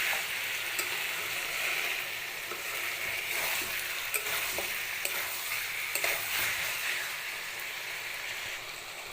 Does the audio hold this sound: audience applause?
no